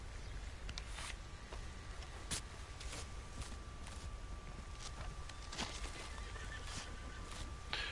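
A horse in Red Dead Online whinnies while its hooves clip-clop in a steady walking rhythm, faint and fairly quiet, with sharp hoof clicks scattered throughout and no talk.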